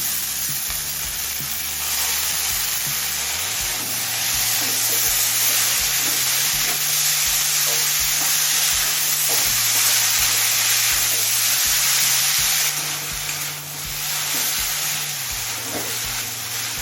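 Cauliflower stalks and eggplant fry in a pan, giving a steady, loud sizzle with occasional stirring scrapes throughout.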